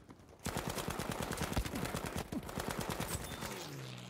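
Rapid automatic gunfire in Battlefield V Outpost mode, a dense sustained burst of machine gun rounds, loud and close, running for several seconds before tapering off.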